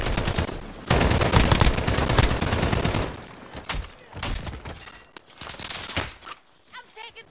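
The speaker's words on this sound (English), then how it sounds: "Someone is shooting at me here." Rapid bursts of video game gunfire crackle loudly in long automatic volleys, then break into shorter scattered shots, with a voice speaking in between.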